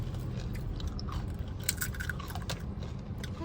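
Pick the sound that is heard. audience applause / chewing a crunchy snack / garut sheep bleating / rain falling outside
chewing a crunchy snack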